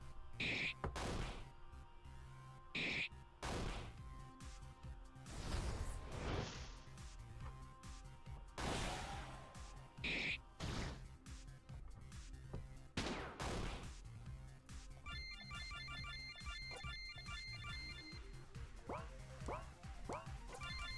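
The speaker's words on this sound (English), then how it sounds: "Hear the sound of gunfire and shouts coming from just inside the town." Bursts of video game gunfire crackle and thud in irregular volleys, with sharp impacts scattered through a busy, steady backdrop of game sound.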